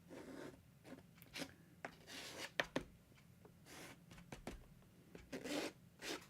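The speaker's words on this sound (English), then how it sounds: "I might even use my old credit card technique where I'll come in here and maybe do a little scratching off here" Old credit card scraped across damp watercolor paint on paper, a run of short dry rasping strokes, some quick and some drawn out, close up and without speech.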